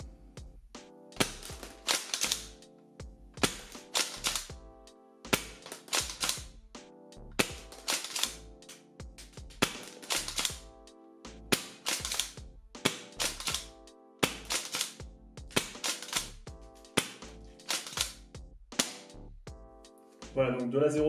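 A pump air rifle fires a run of test shots at a 20-metre target, about a dozen sharp cracks spaced every second or two, each with a short mechanical clack, close and loud.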